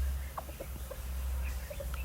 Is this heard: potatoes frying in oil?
no